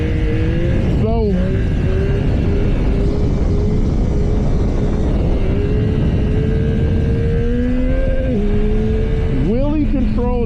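A motorcycle engine drones loudly through a wheelie with lift control engaged, its pitch rising and dipping as the rider works the throttle, with heavy wind rumble throughout.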